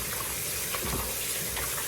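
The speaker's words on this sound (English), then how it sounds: "for the chicken, you just want to rinse it off in some warm water" Warm tap water gushes steadily into a sink while raw chicken is rinsed under it, a close, continuous splashing with small irregular spatters.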